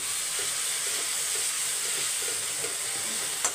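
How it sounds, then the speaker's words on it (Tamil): A pan of potato and tomato curry simmers with a constant sizzling hiss and faint soft bubbling pops, close up and steady, with no voices. "இப்போ இது நல்லா கொதிக்கணும்."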